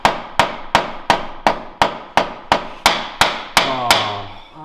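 A hammer strikes a pilot bearing on a Nissan 350Z during transmission repair, about a dozen loud, sharp metallic blows in a quick even rhythm, each ringing briefly, with a final fading tone.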